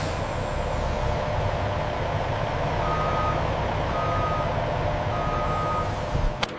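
A delivery truck backs up at a coffee factory loading bay, its reversing alarm sounding a steady series of evenly spaced beeps over a constant low engine rumble and broad background hum.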